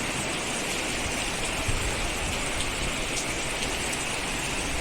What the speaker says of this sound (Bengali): অক্ষয় তৃতীয়ার দিন আজকে বৃষ্টি শুরু হলো